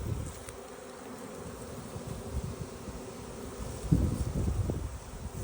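Dense, continuous buzzing of a honey bee swarm with bees fanning their wings outdoors, heard up close and swelling louder toward the end.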